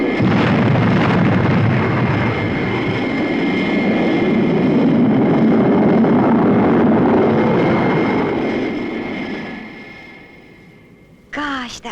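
Retro rockets firing on a spaceship in the Thunderbirds TV series, a loud sustained roaring blast with rumbling bursts that gradually fades out, followed by a short chirpy electronic sound at the end.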